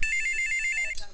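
A telephone ringtone plays loud and close, a bright electronic warble that holds steady and then cuts off near the end, with faint voices around it.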